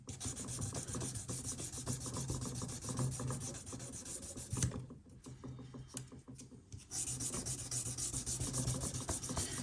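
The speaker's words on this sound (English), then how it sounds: "now with the 1200 grit we're getting rid of the scratches" Steady rasping rub of 1200 grit sandpaper worked back and forth over the frets of a Japanese Strat, continuous and close with a brief pause midway before resuming.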